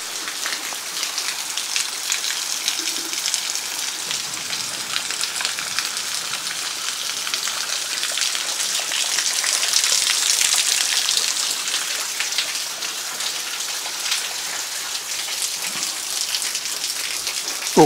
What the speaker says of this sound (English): Big rain has arrived in Central Australia.